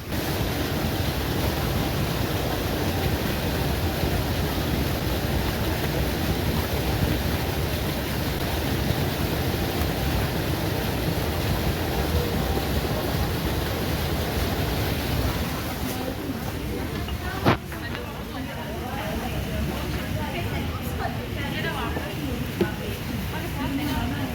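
Loud, steady rushing of water in a pool fills the whole stretch, a dense even roar that eases slightly near the end, broken by one sharp click.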